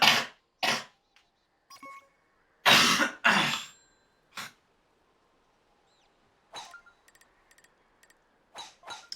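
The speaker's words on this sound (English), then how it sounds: "sorry for all the coughing, by the way" Person coughing and clearing their throat during a round of Nintendo Switch Sports golf: several sharp, separate coughs with silent gaps between them, a couple in quick pairs, plus faint chiming game sounds near the end.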